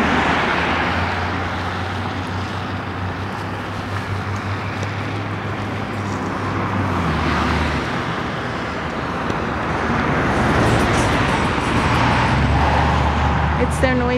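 Road traffic on a small-town bridge roars and rumbles steadily nearby, with passing vehicles swelling and fading and a low engine drone, while a voice speaks over the noise.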